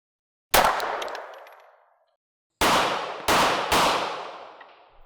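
Gunshots from a first-time shooter at a range: four sharp, loud reports, a single shot followed after a pause by three in quicker succession, each with a long echoing decay.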